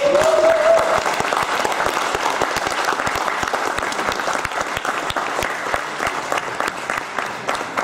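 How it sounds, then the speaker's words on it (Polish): An audience claps warmly and continuously, dense applause holding steady throughout with a brief voice near the start. "zasługują na jeszcze, jeszcze raz na wielkie brawa"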